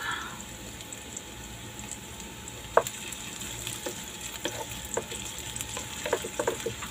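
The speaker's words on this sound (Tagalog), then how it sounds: "Lagay na natin ang ating luya" Ginger frying in a pan at home for adobo kangkong with shrimp: steady soft sizzle throughout, with scattered sharp crackles and pops that grow denser toward the end, close and fairly quiet, no talking.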